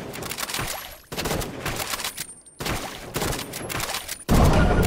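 Ray gun fire in a shooting video game comes in dense, sustained bursts of rapid shots, loud and close, broken by brief pauses and ending in a heavier blast.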